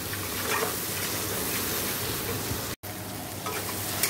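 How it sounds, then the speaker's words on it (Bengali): Masala spice paste with turmeric and sugar hisses and crackles in a pan for rui fish curry, a dense steady sizzle with one brief dropout, close and loud. "ভালো করে মশলাটা কষে নেবো।"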